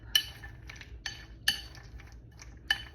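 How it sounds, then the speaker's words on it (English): Raw, unroasted and unsalted cashews being stirred in a bowl, giving four sharp utensil clinks spaced about a second apart over quiet, soft scraping, close and fairly faint, with no talking. "All you do is mix this up."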